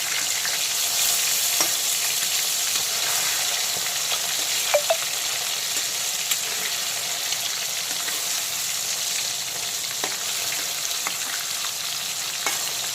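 Rohu fish pieces deep-frying in hot oil, a continuous bright sizzle with occasional sharp pops and crackles, close up and with nobody speaking.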